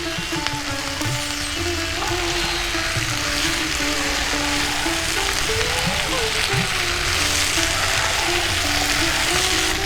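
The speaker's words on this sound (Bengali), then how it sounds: "গ্যাসের ফ্লেমটাকে মিডিয়ামে রেখে আমি সবজিগুলোকে ভেজে নিচ্ছি।" Mixed vegetables fry in a pan over a medium gas flame, giving a steady, dense sizzle that stays loud and constant, with faint spoken words and a tonal hum in the background.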